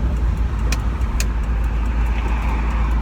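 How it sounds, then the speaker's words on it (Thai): Car engines idling and rumbling in heavy, slow-moving traffic on a road in Chiang Mai, Thailand, heard as a steady low drone from inside a vehicle with no talk. "รถติดมาก"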